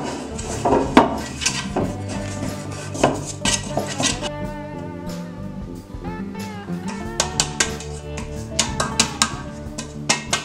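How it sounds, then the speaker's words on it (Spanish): Metal clatter and scraping as a baking mold for banana bread is greased with butter, a close, uneven series of clinks and knocks over a soft musical background. "Vamos a comenzar enharinando nuestro molde, lo vamos a engrasar con un poquito de mantequilla"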